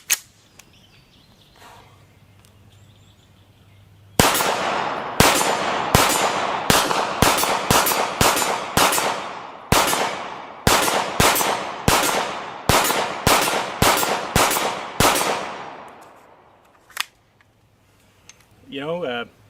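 A Steyr M9-A1 pistol, freshly reloaded after being gunked with mud, fires a rapid string of about twenty sharp, loud shots in irregular bursts close by, each crack ringing briefly, with quiet moments before and after.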